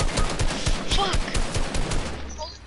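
Rapid gunfire in a multiplayer shooter video game, a dense run of loud shots close up with game effects layered under it, tailing off at the end.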